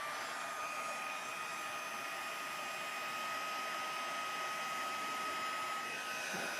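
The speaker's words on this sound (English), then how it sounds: "All right, so now we need our heat tool." An embossing heat tool blows on its high setting, a steady, even whir of fan and rushing air with a thin high whine, continuous and close for the whole stretch.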